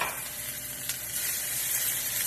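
Kale sautés with garlic in a pan, a steady moderate sizzle with a light stirring knock partway through, with no talk.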